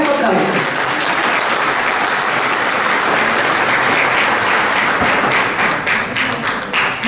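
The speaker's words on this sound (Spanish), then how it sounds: "Para su aplauso." An audience at a talk for tourist guides breaks into loud, dense applause that carries steadily for several seconds and thins slightly near the end, with a voice speaking over the clapping.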